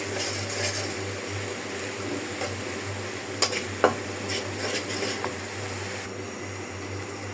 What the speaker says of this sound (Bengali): সব মশলা দিয়ে দিলাম, ভালো করে মশলাটা কষাইয়া একটু পানি দিয়ে তারপরে মাছ দিয়ে দিব।